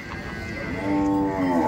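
A Gir cow at a cattle market in Dhule lets out a long, low, resonant moo that swells midway and holds to the end, set against a steady murmur of market noise.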